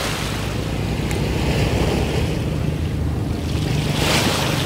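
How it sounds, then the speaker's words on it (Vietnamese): Waves at Gò Công beach, a silty, brown-water sea where two river mouths meet, make a steady, broad wash of surf, heavily mixed with loud wind rumbling on the microphone, with no speech. "Cái này là biển Gò Công đặc biệt á, là biển gọi là biển phù sa"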